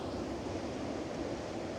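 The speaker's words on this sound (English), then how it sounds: "waves are crashing" Sea waves at Porth Nanven, Cornwall, a broad, steady wash of surf on the shore, soft and continuous over a short stretch with no voices.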